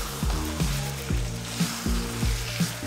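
Chicken pieces sizzle and fry in a pan with spice masala for Kashmiri-style chicken kanti, scraped by a spoon in steady rhythmic strokes every half second or so, close and clear with no talking.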